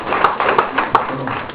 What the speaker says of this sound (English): Now, white people, clap if you're white.